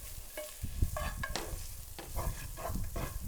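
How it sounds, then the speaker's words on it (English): Curry powder is tossed in melted butter sizzling in a pan. Quiet frying sizzle and irregular stirring and tossing clatter come close up, with no voices over them. "So melt a tablespoon of butter, add half a tablespoon of curry powder, and then toss to incorporate."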